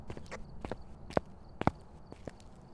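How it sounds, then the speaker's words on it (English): Footsteps of a ghost in the horror game Phasmophobia, a string of soft irregular thuds with a few sharper knocks, fairly close in a quiet room with no talk. "I could hear its footsteps and the flashlight wasn't going off."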